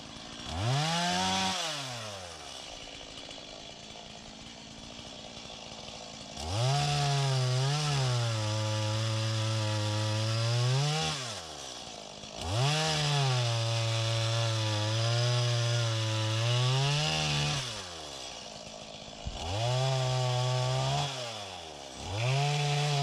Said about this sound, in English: This is a dry standing pine. I'm going to cut this up for firewood.